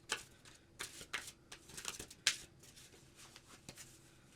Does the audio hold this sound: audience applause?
no